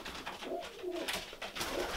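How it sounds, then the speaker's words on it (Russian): Pigeons coo softly and repeatedly while being fed on a winter day, faint and slightly distant, with no talking. "Сейчас кормим голубей."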